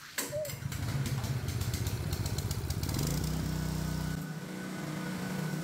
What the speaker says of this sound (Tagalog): Hihilahin po yung recoil starter.